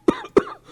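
Two sharp, close coughs about a quarter second apart, each followed by a brief rasping tail.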